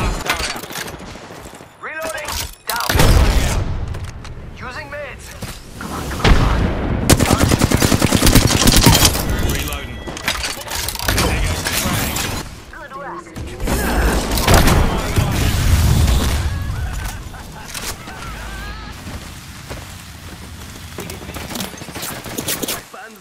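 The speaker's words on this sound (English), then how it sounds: "They're shooting at me." Heavy gunfire in an Apex Legends match: loud, near-continuous machine-gun bursts and booms with brief pauses, while voices speak intermittently over the shooting.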